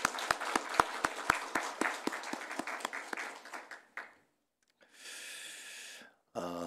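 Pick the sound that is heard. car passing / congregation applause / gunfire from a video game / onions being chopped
congregation applause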